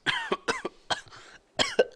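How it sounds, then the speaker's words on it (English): A burst of several harsh, hacking coughs in quick succession, close and fairly loud, then a brief pause before two more coughs. "I think I got a kennel cough."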